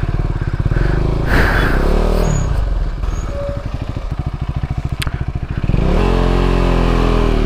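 A motorcycle rides along an offroad track near Darjeeling, its engine loud and close with a steady pulsing chug that rises and revs toward the end.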